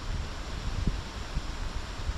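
A gusty wind of about 17 km/h buffets the microphone during a bicycle trip in Sweden, a steady rushing roar broken by a few low thumps.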